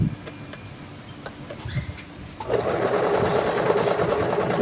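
A sewing machine under a functional check runs steadily after a quieter start, its motor whirring loudly and evenly for the last two seconds, with no talking.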